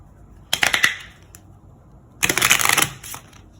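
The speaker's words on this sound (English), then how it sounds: "These need a much better shuffle, because I got the ones from the Gemini reading." Tarot cards are shuffled in two quick bursts of crisp riffling and snapping, the second longer, close and loud with no talk.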